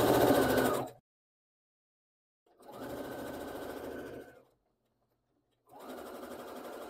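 A sewing machine stitches toward a fabric corner in three bursts of fast, buzzing whir, each stopping abruptly with silence between, heard close and clear.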